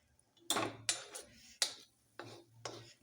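Spoon scraping and clacking against a pan while chili and curry leaf zunka is mashed and stirred, five or six distinct clanking strokes at an uneven rhythm, close and fairly quiet, with no talking.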